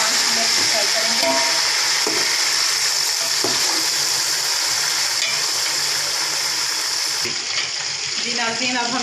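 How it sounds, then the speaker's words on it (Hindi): Chicken fries in a pot for yakhni pulao with a constant loud sizzling hiss and occasional clatter, steady throughout. "अब हम इसमें चिकन डालेंगे। हमने चिकन निकाल के रख लिया है यखनी से, चिकन फ्राई करेंगे साथ डाल के।"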